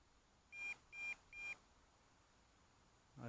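Three short, even electronic beeps from an MJX Bugs 3 Pro drone's radio controller in quick succession, clear against a quiet background, followed by silence and a brief low thump at the end.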